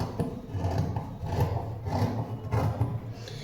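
Scissors slice through cloth laid on a table while a skirt is cut out. Close, rhythmic rasping snips repeat steadily for several seconds, with no talking.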